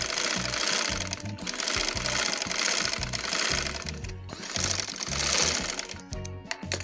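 A sewing machine stitches fabric for a child's dhoti salwar, running in rapid rhythmic bursts with short pauses between runs, close and clear with no talk.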